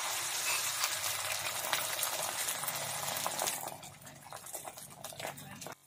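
Omelette batter hits a hot, oiled griddle and sizzles in a loud, hissing wash that eases off and grows quieter after a few seconds.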